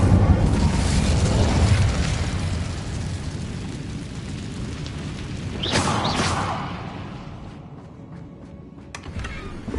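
Incendio fire spell cast in Hogwarts Legacy on PS5, a rushing, booming burst of flame over a continuous roar, swelling sharply partway through and then fading off.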